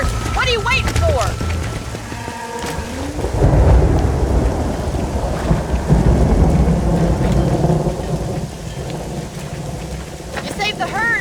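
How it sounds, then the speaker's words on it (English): Thunder rumbles and crashes loudly over steady heavy rain during a storm in the Red Dead Redemption game, with broadband roar filling the scene and brief snatches of voice and other game sounds near the start and end. "The storm's getting worse."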